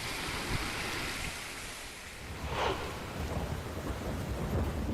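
Heavy monsoon rain pours steadily across villages in Jalgaon, Maharashtra, a dense broadband roar, with a low rumble of thunder rolling through the middle and no voices.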